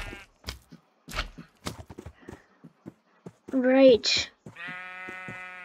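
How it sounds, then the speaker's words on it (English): Sheep in a video game give a couple of loud, wavering bleats near the end, with hoof clip-clops and a person talking over the early part. "Now we just need to take sheep across this very long journey."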